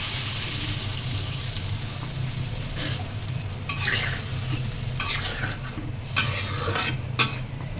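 Water goes into a pan of frying rui fish and eggplant curry with potatoes, giving a steady close sizzle and bubbling with occasional sharp clinks of a spoon against the pan.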